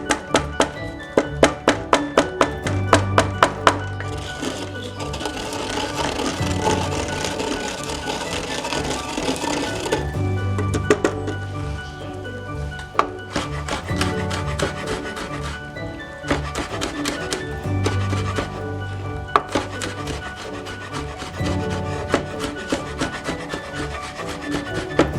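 Whole spices ground by hand make a steady, rhythmic rubbing and grating, close and fairly loud, broken by brief pauses and a few sharper knocks, with no talking.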